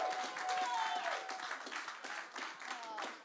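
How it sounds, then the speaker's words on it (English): An audience at a UK Barista Championship 2023 regional heat in Cardiff claps steadily through the whole stretch, a dense round of applause with voices mixed in. "Let's give one more round of applause for Zoe."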